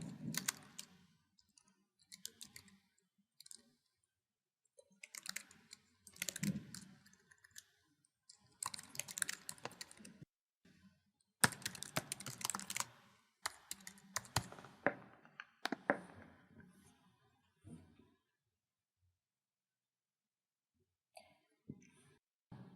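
Keys on a computer keyboard tapped in short bursts to enter an address, clicking clusters separated by pauses, close and fairly quiet with a few throat-clearing sounds.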